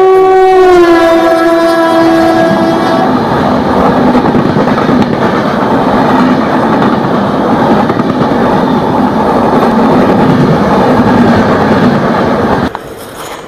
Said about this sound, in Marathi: आपली ट्रेन निघाली.